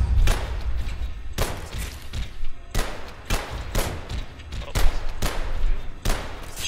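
Bursts of gunfire from a weapon in the video game Abiotic Factor, a rapid string of loud, punchy shots repeating in clusters with short gaps, sounding close and heavy.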